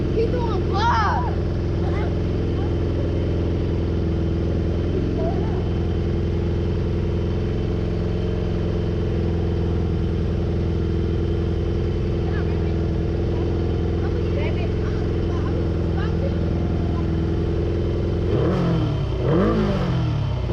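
A motorbike engine runs steadily as kids ride, a constant mid-distance drone with brief revving swells near the start and end, while people talk over it.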